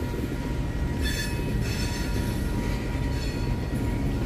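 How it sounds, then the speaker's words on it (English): A cross-Canada freight train passes close by in St Paul, Minnesota, a loud, continuous rumble of rolling cars with high metallic wheel squeal rising over it. "they got those cross Canada trains"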